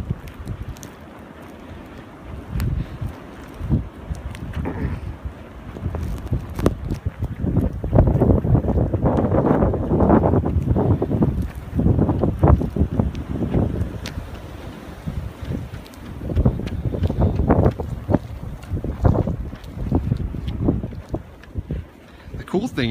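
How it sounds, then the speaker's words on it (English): Strong gusting wind roars across a snowy outdoor lot during winter storm Juno, a blizzard, swelling and easing in loud broadband surges with buffeting on the microphone; someone talks over it at times. "it's been so windy, the cars have no snow on them"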